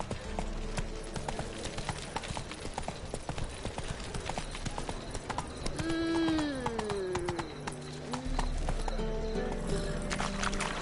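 A horse gallops in The Witcher 3 video game, with steady hoofbeats throughout and a clear neigh midway, amid game sound.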